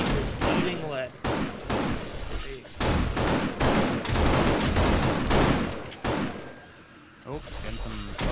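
Rapid bursts of gunfire from several weapons in the 7 Days to Die video game, shooting a radiated zombie during a horde night, loud and close and nearly continuous with short gaps, a voice talking briefly in between.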